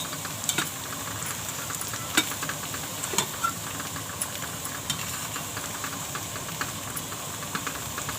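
Grated coconut and onion roasting in a pan crackle with a constant dry sizzle, with quick ticking spatula taps recurring throughout.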